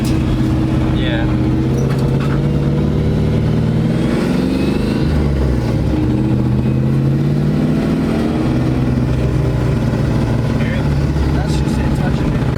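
An LS V8-swapped Volvo 240 drives along with a loud, steady low engine drone that rises and falls gently, heard from inside the car while people talk over it.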